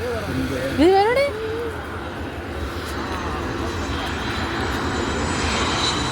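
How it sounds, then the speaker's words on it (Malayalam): An airplane passes overhead as a family watches it from the ground, a steady broad engine rumble continuing throughout at moderate distance, with a brief voice or whistle-like sound near the start. "അപ്പം അങ്ങനെ മൂന്നാമത്തെ പ്ലെയിൻ വന്നു."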